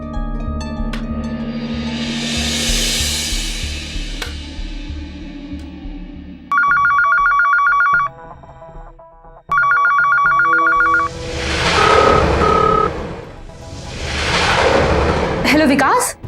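A telephone rings in two loud electronic bursts, with rumbling noise and bits of talk before and after.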